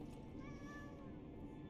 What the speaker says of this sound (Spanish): Investigar el gatito. ¿Qué tal?